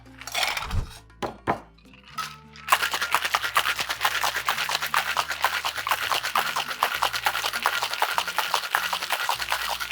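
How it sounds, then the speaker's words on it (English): Cocktail shaker with ice, shaken hard for a lime-juice Mexican cocktail: a few loud clinks and knocks, then a steady, fast rattle of ice against metal close to the microphone, with no talking. "Add some ice and then shake for 10 to 12 seconds"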